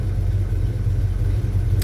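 A 1984 Chevy C10 pickup with a 350 V8 and four-speed idling right after a cold start, a steady, loud low rumble with no talk.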